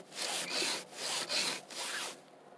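A chainsaw chain is sharpened with a hand file held level in straight forward strokes, giving four steady rasping scrapes in an even rhythm, close and clear with no talk.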